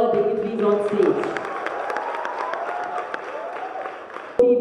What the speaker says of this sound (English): a big round of applause for all our dignitaries on stage